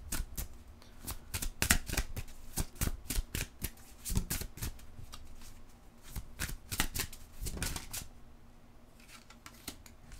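Tarot cards are shuffled and drawn by hand in a crisp, close series of rapid riffles and flicks, loud and steady across the whole stretch with no talking.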